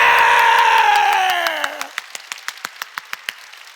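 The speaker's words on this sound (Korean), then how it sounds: "빨리 박수 치라고 빨리" Church congregation clapping hard after a loud sustained vocal cheer fades, the clapping settling into a sharp, regular beat of about a dozen claps, close and loud.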